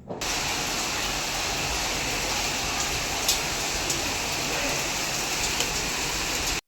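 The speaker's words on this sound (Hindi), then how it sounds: "तो साउंड सुना आप लोगों ने बारिश का।" Heavy monsoon-style rainstorm pours down steadily, a dense hissing wash of drops on surfaces with a few louder splats, continuous and close.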